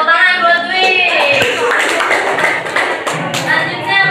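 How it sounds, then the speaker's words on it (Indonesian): Classroom applause for a student, scattered claps and thumps under children's voices and chatter, loud and close with a brief burst of clapping toward the end. "tepuk tangan buat Dwi"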